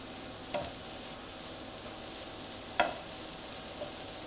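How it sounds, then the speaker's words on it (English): Finely chopped mushrooms are stirred into other mushrooms in a sizzling pan, a low steady fry with two distinct scraping stirs and a softer third knock, no voices. "They're all chopped nice and fine, so I'm going to put them in with the other mushrooms. Stir them in."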